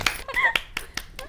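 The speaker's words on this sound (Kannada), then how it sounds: "ಚಲೋ ಒಂದು ಚಪ್ಪಾಳೆ ಹೊಡೆಯೋದು ನಿಮಗಾಗಿ." A few sharp, scattered hand claps from a woman on a Kannada TV show, spaced irregularly and close by, with brief bits of voice in between.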